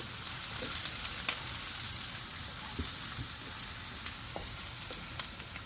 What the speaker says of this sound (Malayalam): ഇപ്പോൾ ഇത് ജിഞ്ചറും ഗാർലിക്കും ഒന്ന് സോട്ടായിട്ട്